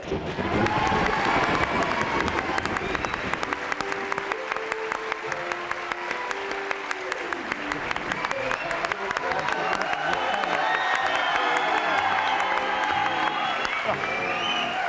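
A TV studio audience at a French variety show applauds and cheers in a sustained, loud wave that carries on at full strength for the whole stretch, with scattered shouts and some tonal sounds mixed into the clapping.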